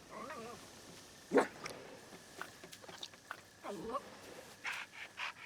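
A dog in the video game Assassin's Creed Shadows pants and whimpers in a few short, soft bursts among quiet background game sounds, with faint talk mixed in.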